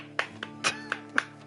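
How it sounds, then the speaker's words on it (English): A few sparse hand claps ring out close by, about five quick separate smacks in an uneven rhythm over a faint steady background hum. "I'm clapping."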